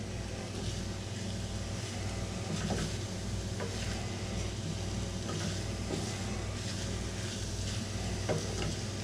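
Eggs and peppers cook in a hot pan, giving a steady, quiet sizzle with faint stirring scrapes and a low background hum throughout.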